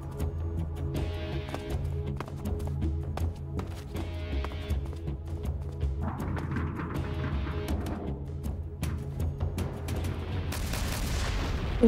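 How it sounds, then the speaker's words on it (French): Explosions and gunfire in the video game Metal Gear Solid 3, loud bursts of gunshots and blasts in irregular rapid bunches over a rumbling game background, with no talk, ending in a sharp burst. "Je trouve les explosions de ce jeu très jolies."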